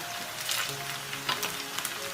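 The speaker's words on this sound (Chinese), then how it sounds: "我们给它放到锅里面，稍微煎一下表面" Radish meatballs pan-frying in oil in a wok, a soft continuous sizzle with scattered pops and crackles, faint hums and tones running beneath.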